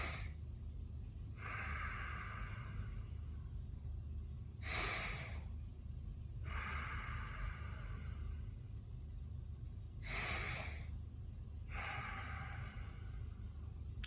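Deep, forceful exhalations during a breathing exercise, six strong breaths out in a steady rhythm with pauses between them, close to the listener over a low rumbling background, with no talking.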